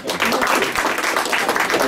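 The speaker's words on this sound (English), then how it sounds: "One more clap sign, please." Studio audience applauding on cue at the start of a live radio-style show, a steady dense wash of clapping filling the full two seconds with no clear gaps.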